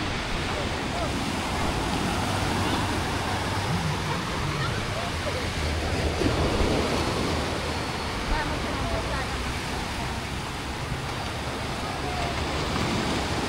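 Ocean waves crash nearby on a beach with a lifeguard, a continuous, loud roar of surf mixed with wind, steady from start to finish.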